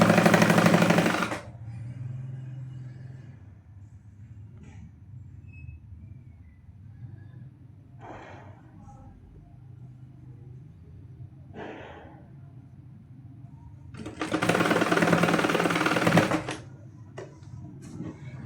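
A sewing machine stitches loops onto a neck design in two loud bursts, one at the start and one near the end, with a quiet stretch of faint knocks and handling between them.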